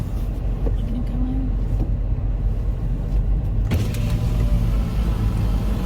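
A car passing on a city street, a loud steady engine and road rumble close by with a brief swell and louder whoosh near the end, over constant traffic noise.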